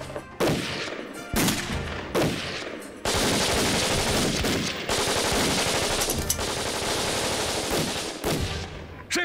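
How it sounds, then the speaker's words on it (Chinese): Sustained automatic gunfire near a village entrance in a wartime setting, loud close bursts and rapid volleys running almost continuously with brief gaps. "谁开枪？ 啊？ 谁开枪？"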